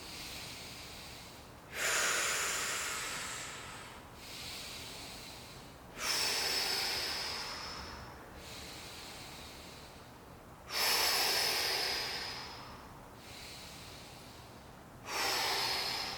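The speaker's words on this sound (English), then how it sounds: "Starting with that transverse abdominal breathing." Deep transverse abdominal breaths during a postpartum core workout: four strong, hissing exhales roughly every four seconds, each with a softer inhale between, close and clear with no talking.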